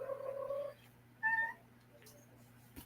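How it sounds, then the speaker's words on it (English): A female house cat meows twice at a moderate distance, first with a longer, steady call and then with a shorter, higher one, against a quiet background with a low hum. "This cat has been driving me bonkers. She has been meowing up a storm all afternoon."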